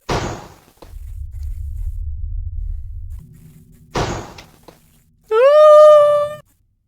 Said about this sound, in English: Oh no, actually the door closes by itself.